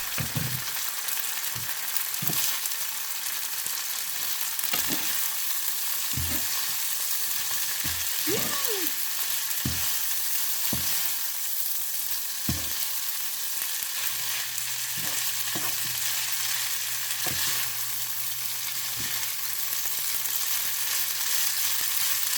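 Spaghetti stir-fried with bacon in chili garlic oil: steady sizzling hiss from the pan, broken by repeated scraping and tossing strokes at an uneven rhythm, close by and moderately loud, with no talking.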